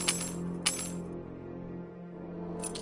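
Keys being handed over in the video game Full Throttle, a few bright metallic jingles and clinks, with two quick ones close together at the start and another near the end, over a low ambient hum.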